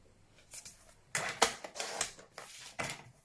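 Cardstock being cut with a paper trimmer, a series of short crisp slicing and clicking sounds in uneven bursts, quiet and close with no voices.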